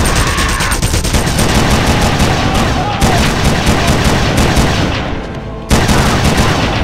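In Red Faction, a bomb-triggered ambush fills the scene with loud, continuous blasts and rapid gunfire-like bursts, dense and close throughout.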